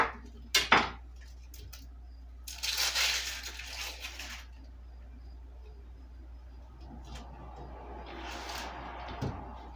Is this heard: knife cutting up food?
yes